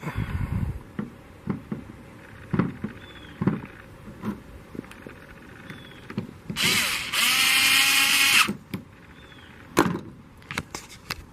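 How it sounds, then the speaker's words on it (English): A screw is driven back into the window motor housing of a 1991 Crown Victoria: light taps and clicks, then a loud buzzing power-driver burst of about two seconds, ending in a few sharp clicks. "just push that housing right back down on there and put your screw back"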